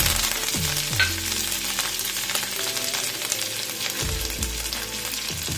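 Curry leaves and coriander hit hot tempering oil with a loud, steady sizzle and frying hiss, broken by a few stirring scrapes, close up and with no one talking.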